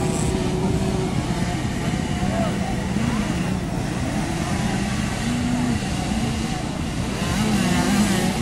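Small 50cc motorcycles race in a class final, their engines a continuous nearby buzzing drone rising and falling as they pass, under a loud commentator speaking throughout.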